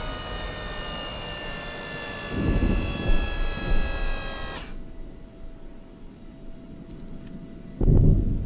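A loud whining helicopter engine in the video game Steel Beasts, with a droning rotor tone, dominates, then cuts off abruptly, leaving lower rumbling and a couple of thumps.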